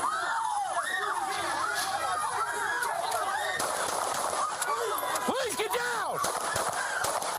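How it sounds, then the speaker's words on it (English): Rapid bursts of gunfire crack over a chaotic scene recorded on a police body camera, with shouting voices and screaming mixed in throughout. "One body camera clip starts with the sound of a gunshot and then the police officer firing"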